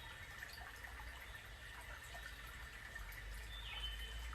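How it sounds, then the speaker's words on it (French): A forest stream flows in a soft, continuous wash of water, faint and even throughout with no other sounds. "et un ruisseau non loin"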